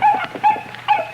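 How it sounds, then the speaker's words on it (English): A little white puppy whimpers in a few high, thin whines, three short cries close by with brief pauses between them. "A little white puppy."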